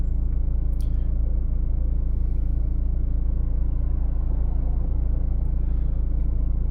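A car drives along a practical driving exam route in Kryvyi Rih, its engine giving a steady low rumble heard from inside the cabin without interruption.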